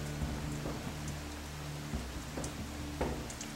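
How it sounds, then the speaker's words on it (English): A torrent of unseasonable rain falls in outback Australia, a steady, moderate hiss of drops with a few sharper splashes and a low hum beneath. "The evening of day one brings a torrent of unseasonable rain, leaving many roads closed or difficult to pass."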